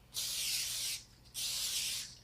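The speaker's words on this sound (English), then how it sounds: "we're going to spray it with this oil" Two steady hissing bursts of cooking oil spray misted into cake pans, each lasting just under a second and separated by a short pause, close and fairly quiet, with no talking.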